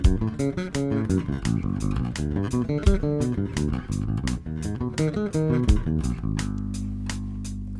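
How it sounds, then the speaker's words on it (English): Electric bass guitar running alternating major and minor arpeggios up and down the neck over a drum machine beat, steady crisp hi-hat and kick pulses under busy plucked bass lines, ending on a sustained low note. "Let me play it with the drum machine."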